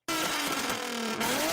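A Nissan Z on its stock exhaust revs up loudly and alone, giving a buzzy, nasal engine note that climbs steadily in pitch through a continuous rise.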